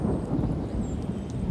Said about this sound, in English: Wow, this is loud thunder.